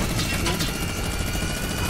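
Plane engine in Fortnite Air Royale, a loud, steady droning roar with a chopping propeller-like texture that fills the whole moment without letup, close and constant.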